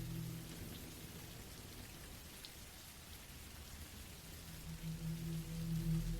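Steady rain falling on a campsite in the woods, a continuous broadband hiss of drops on surfaces with a low rumble swelling toward the end, no voices.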